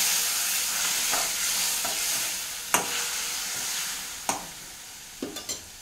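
A spoon stirs tamarind curry with a little added water in a pan over a steady soft sizzle, with a few sharp scrapes and clinks scattered through and a quick cluster near the end.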